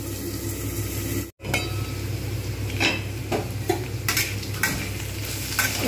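Potatoes fry in a pan with a loud, constant sizzle close by. A spatula clinks and scrapes against the metal several times, and the sound cuts out briefly early on.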